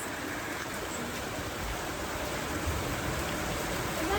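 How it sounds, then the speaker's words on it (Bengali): Heavy rain pours down outside, a dense, steady broadband wash of noise that holds unbroken throughout, with no voices. "এতটাই জোরে বৃষ্টি হচ্ছে যে আমরা বাইরে এখন ইম্পসিবল শ্যুট করা"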